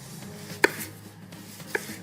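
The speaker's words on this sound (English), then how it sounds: "my favourite way to cut them is to just take out the stem end and cut them in wedges like this" A knife chops through vegetables into wedges on a cutting board, two sharp, close knocks about a second apart against a quiet background.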